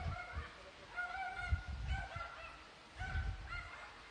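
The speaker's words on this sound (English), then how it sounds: "A little noisy dog." Small dog barking on a street in Greenwich Village, a handful of sharp, high yips in short bursts, fairly close, over quiet city background.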